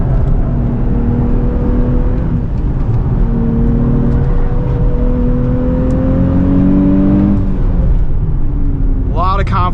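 Engine of a 2027 Nissan Z NISMO with six-speed manual revving hard on a race track, rising and falling pitch through gear changes with constant road and wind roar, then a short voice near the end.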